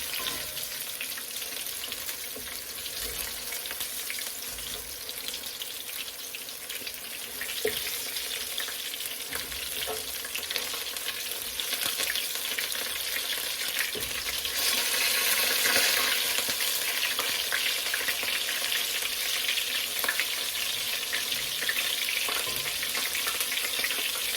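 Boudin balls fry in a little grease in a Dutch oven with a constant crackling sizzle, while stirring and flipping add scraping and clattering that grow slightly louder partway through.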